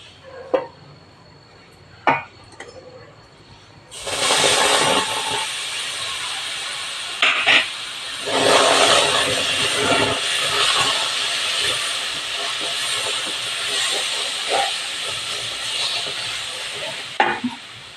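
Mashed ripe banana pulp hits a hot pan for banana burfi and bursts into loud, steady hissing sizzle after a few quiet clinks, with occasional scraping stirs as it keeps frying.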